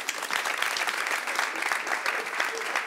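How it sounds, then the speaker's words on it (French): A studio audience claps steadily as a guest walks onstage on a French talk show, a dense, even patter of many hands held at moderate volume for the full stretch. "on l'applaudit pendant qu'elle arrive"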